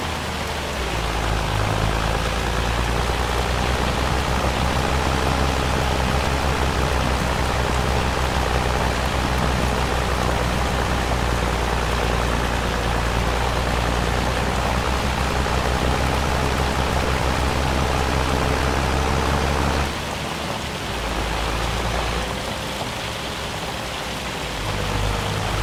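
Hail and heavy rainstorm in Farming Simulator 25, a steady loud roaring wash of falling precipitation that continues without pause, dipping briefly near the end, no talk.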